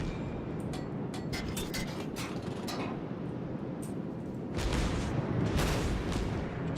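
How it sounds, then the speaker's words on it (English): Heavy naval gunfire from warships in World of Warships, with a cruiser trading shots with an enemy ship: a steady, dense roar of rumbling booms and sharp cracks, growing louder near the end, with no talking. "Just going to wreck him, just going to keep firing at him, wrecking him."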